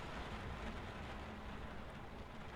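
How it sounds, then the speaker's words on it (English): Rain in the horror video game Layers of Fear, a quiet, constant hiss of rainfall with no clear breaks, faint and steady throughout. "I can hear the rain and stuff just fine"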